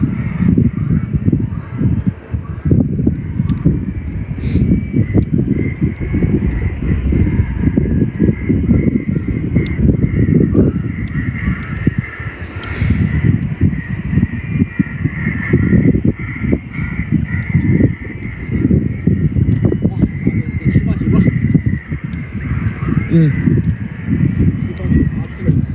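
An electronic bird repeller at an airport plays recorded crow-like caws and calls over steady background noise, while someone talks almost continuously in the foreground.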